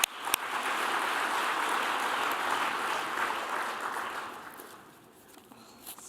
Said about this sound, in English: Give applause to Violet.